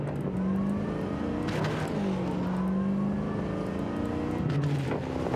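A car in Cyberpunk 2077 drives and revs with a steady engine hum whose pitch rises and falls through gear changes, loud and close throughout with no talking.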